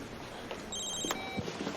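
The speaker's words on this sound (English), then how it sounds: "Is that your phone?" A phone rings in a quiet room during a legal and family TV drama, giving a short electronic trill of steady tones in the middle of the clip, heard alone with no talk.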